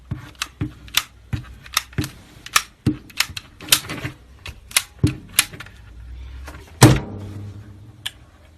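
A hot glue gun running low on glue, used on a cigar box being made into a necklace box, giving a quick series of sharp clicks and clacks, close and steady, with no talk.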